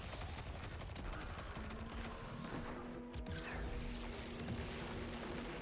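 Seasonal machine gun firing in Destiny 2 during a solo Master Lost Sector, a dense continuous rattle of rapid shots with booms mixed in, loud and unbroken throughout.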